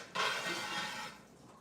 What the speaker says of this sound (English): Just rinse it out.